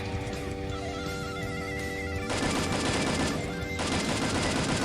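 Rapid automatic fire from an M4 rifle in the mobile battle game Free Fire, dense bursts of shots in two long loud runs with steady game tones beneath.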